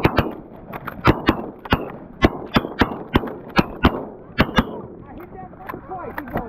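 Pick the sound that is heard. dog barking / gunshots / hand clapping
gunshots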